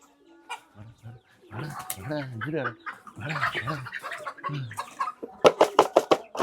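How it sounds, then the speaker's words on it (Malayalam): Roosters squabble and cluck in bursts during a cockfight, with sharp wing flaps or pecking thuds near the end; people talk over the scuffle. "ഇങ്ങനെയാണ് കോഴി പോരിന് കോഴി കൊത്തുന്നത്"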